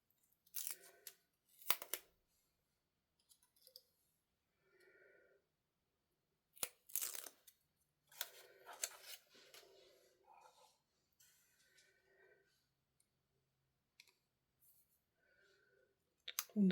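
Scissors cutting wet paper for a stamping craft, heard as sharp, close snipping crunches in irregular bursts with quiet gaps between, and soft paper rustles in between the cuts.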